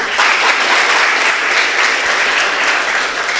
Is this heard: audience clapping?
yes